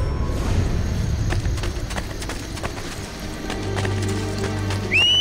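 Horse in the Assassin's Creed Brotherhood video game, with hoof clip-clop and a short neigh over a low rumbling game soundscape, followed by a rising whinny near the end.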